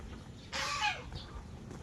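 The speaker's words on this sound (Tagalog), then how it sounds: "mga pabo, itik, bibe, manok" A brief burst of bird calls rises over faint background noise, turkeys, ducks and chickens squawking and clucking nearby at a resort for under a second before fading back.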